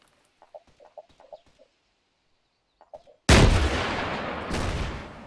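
In the game Arma 3, a sudden loud blast of gunfire hits after a few faint clucking sounds, then rumbles on with a long decaying echo and a second swell near the end.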